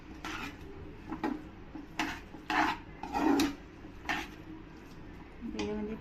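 A spoon scrapes and rubs through broccoli and capsicum in a pan for white pasta, in irregular stirring strokes with light clatter, fairly close and moderately quiet.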